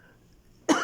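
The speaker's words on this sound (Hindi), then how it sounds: "खांसी आ रही है" A single sharp cough bursts out near the end, loud and close, following a near-silent stretch.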